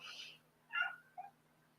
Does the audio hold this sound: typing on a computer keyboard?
no